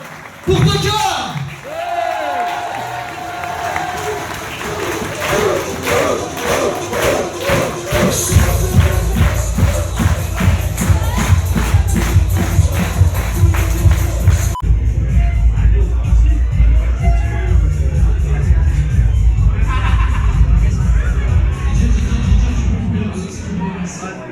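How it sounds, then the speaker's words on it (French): Crowd applause at a Belgian professional wrestling show, a steady loud wash of clapping and noise from the audience that swells and holds, with an announcer's voice heard over it at the start. "encore une fois, un tonnerre d'applaudissements pour The Cœur"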